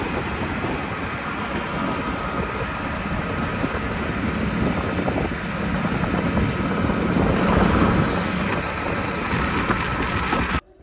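Motorbike engine running outdoors, a loud, steady, rough drone that holds for about ten seconds with slight swells and then cuts off abruptly at the end, with no talk over it.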